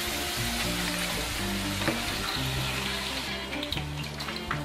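Browned potatoes go into a chicken stew in a pan, giving a soft, steady sizzle that sits under background music.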